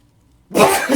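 A single sharp sneeze bursting out after a moment of silence, loud and close, with no talking.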